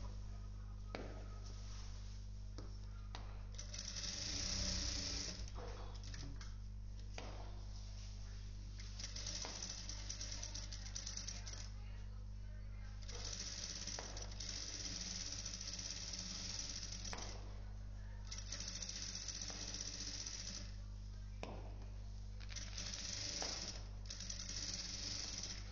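A sewing machine runs a fine single-fold stitch on a simple frock, whirring in repeated bursts of several seconds separated by brief pauses, close and quiet under a steady low hum.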